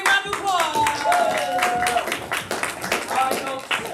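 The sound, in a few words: audience applause for players coming on stage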